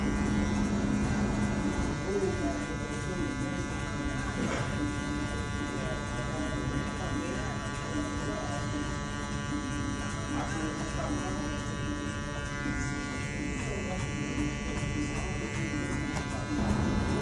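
Electric hair clippers buzz steadily and close by while cutting hair clipper-over-comb for a burst fade, a continuous drone with small shifts as the blades move through the hair.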